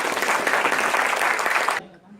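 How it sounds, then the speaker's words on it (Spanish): Dense audience applause at a church nativity play, Os Ha Nacido un Salvador, cheering the actors playing angels. The clapping is steady and full for nearly two seconds, then cuts off sharply into near silence. "Un aplauso para los ángeles."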